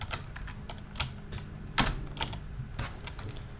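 Fingers tap out short bursts of keystrokes on a computer keyboard, the clicks close and crisp with small pauses between them.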